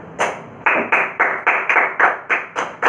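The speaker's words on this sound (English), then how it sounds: "Give a clap" Students in a school classroom clap together in a steady, evenly spaced rhythm, about nine sharp, close claps with nothing else over them.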